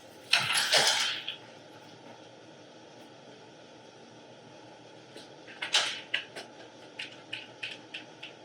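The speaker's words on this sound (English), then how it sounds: "I'm just going to give it a couple cranks, again, to help remove the tension from the sling" A chaise lounge seat rail being cranked to ease tension in its sling during a re-sling repair, heard as a short mechanical clatter followed after a quiet pause by a run of faint, evenly spaced ratcheting clicks.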